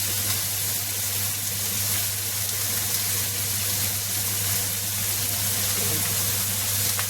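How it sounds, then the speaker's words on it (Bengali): Pumpkin greens fry in a pan while being stirred, giving a steady, even sizzle that runs the whole time at moderate loudness with no clear separate strokes. "এটাকে ভালো করে নাড়িয়ে চাড়িয়ে নিতে হবে।"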